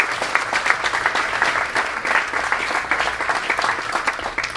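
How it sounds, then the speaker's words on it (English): An audience at a Sarasota 2050 debate applauds its panelists with steady, dense clapping that runs loud and even for the whole stretch, with no voices rising above it. "How about a round of applause for our"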